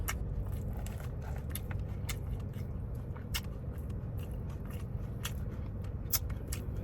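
Close, soft crunches and bites into a Cava meal eaten inside a parked car, quiet irregular chewing clicks over a steady low cabin hum, no talking.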